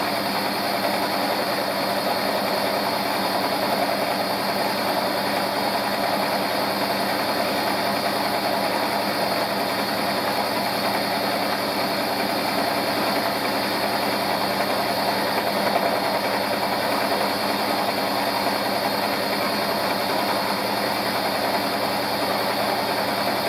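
Steady broadband machine noise from a milling machine taking a deep cut in metal, a continuous, loud grinding hum with hiss that runs unbroken and alone, with no talk.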